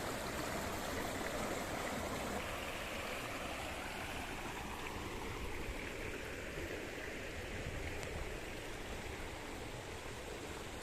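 Steady rushing flow of the ancient Citarum River in West Java, a continuous broadband wash of moving water, moderately distant and unbroken throughout, with no voices.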